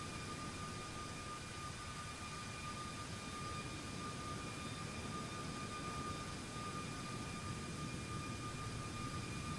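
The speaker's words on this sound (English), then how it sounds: "Just put on the afterburners." Jet engines on afterburner in the Microsoft Flight Simulator 2024 game produce a faint, steady broadband roar with a constant tonal whine, unbroken for the full length.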